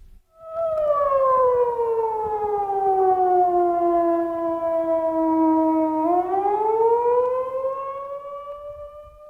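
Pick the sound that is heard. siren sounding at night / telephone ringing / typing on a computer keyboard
siren sounding at night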